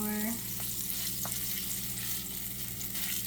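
Potato pancake batter frying in butter in a cast iron pan produces a steady, fairly faint sizzle alone, with a short tonal beep at the start and a low background hum.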